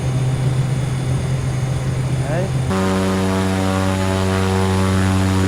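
Propeller airplane engine in Microsoft Flight Simulator X drones loudly and continuously, its tone shifting abruptly midway to a stronger, buzzier pitch, while a person briefly speaks over it.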